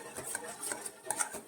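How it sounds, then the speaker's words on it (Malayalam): A spoon stirs a thickening Tang and cornflour pudding mixture in a pan, making quick, close, repeated scraping strokes against the metal in a brisk rhythm, with no voices. "ഇത് കോൺഫ്ലോറും ഇതും എല്ലാം കൂടി കണ്ട കട്ടയില്ലാതെ നമ്മൾ നന്നായിട്ട് മിക്സ് ചെയ്തെടുക്കണം"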